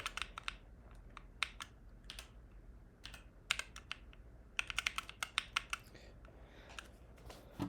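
Quick, irregular bursts of typing on a computer keyboard, heard as close, crisp key clicks in clusters with brief gaps over a faint background hum.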